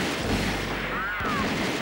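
Cartoon gunfire in an animated mouse gangster shootout: a dense, loud burst of shots with a whistling ricochet, heard up close and without a pause.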